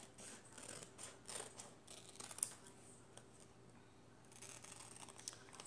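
Scissors snip out a Chalk Couture chalk transfer along its printed cut lines, giving a run of soft, close crisp cuts and faint paper rustle with brief pauses.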